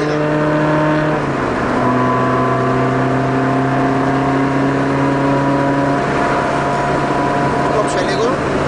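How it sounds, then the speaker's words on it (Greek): A car engine accelerating during a driving lesson, a loud steady hum that rises in pitch and shifts as the gear changes, heard from inside the car, with speech mixed in. "Πάτα γκάζι, να το φάμε αυτό για να πάμε δεξιά λωρίδα"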